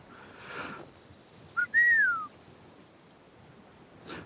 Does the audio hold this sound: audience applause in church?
no